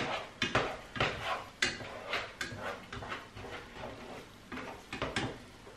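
A spoon clatters and scrapes against a pot while ingredients are mixed together, giving a quiet, irregular run of close knocks and scrapes.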